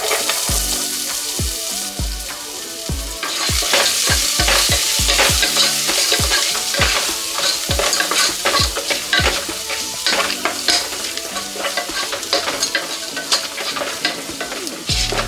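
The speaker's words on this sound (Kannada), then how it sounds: "ಈರುಳ್ಳಿ ಲೈಟಾಗಿ ಗೋಲ್ಡನ್ ಬ್ರೌನ್ ಆಗೋ ತನಕ ಇದನ್ನು ಇದೇ ರೀತಿಯೇ ಫ್ರೈ ಮಾಡ್ಕೋಬೇಕು" Finely chopped medium onion frying in a pan until golden brown, a steady sizzle broken by repeated scraping stir strokes, close and loud.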